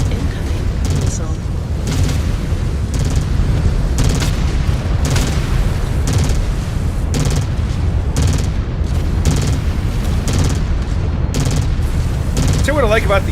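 Missile explosions and weapon fire in the Mechwarrior 5: Clans video game, a dense, continuous barrage of loud booms and blasts over a heavy rumbling bed, with speech mixed in.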